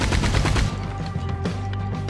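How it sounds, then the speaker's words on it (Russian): A Gatling machine gun rattles in Red Dead Redemption 2, a fast close burst of rapid shots that stops after about three quarters of a second, leaving a low hum and faint scattered pops. "Ну, реально мощный пулемет."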